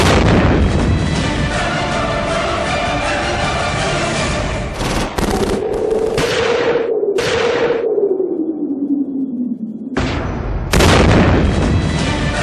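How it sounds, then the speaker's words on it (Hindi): Film battle scene with artillery fire: dense, loud, continuous booming and rumbling blasts, followed by a falling whistling tone and sudden cutouts before the heavy roar resumes. "बरकिला गांव से तकरीबन 1 किलोमीटर पहले उसने आर्टिलरी फायर मंगवाया"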